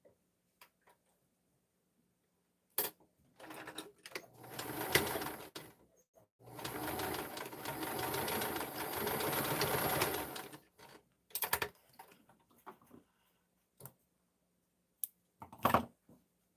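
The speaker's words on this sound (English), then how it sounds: "So I'm going to sew all the pieces for both sides." A sewing machine stitches muslin pieces of a dress form cover in short bursts and one longer run, close and fairly loud, separated by pauses with scattered clicks and handling sounds.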